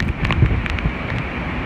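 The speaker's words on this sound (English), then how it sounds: "There comes some of the big gusts around our garage." Strong Hurricane Michael wind gusts buffeting a garage from inside the eyewall, with whipping rain: a continuous loud, roaring rush of wind noise with a brief surge near the start.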